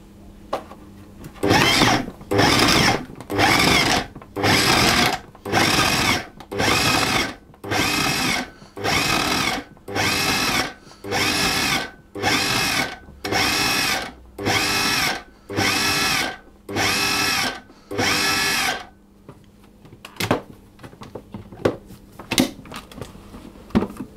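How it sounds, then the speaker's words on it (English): A food processor pulses butter into pea-sized chunks for shortcrust pastry: about seventeen short, evenly spaced whirring bursts separated by brief silences, then quiet with small clicks. "we're going to just pulse that until the butter has broken down into about pea-sized chunks"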